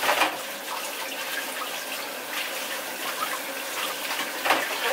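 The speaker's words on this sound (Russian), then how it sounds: "А я пролила стакан с водой." Water splashes and pours steadily at close range, a continuous wet rush with a couple of brief louder surges, heard alone without talk.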